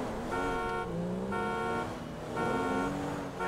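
A car horn in the video game GTA 5 sounds in three separate honks, each about half a second long, heard over the low hum of the game's engine and traffic.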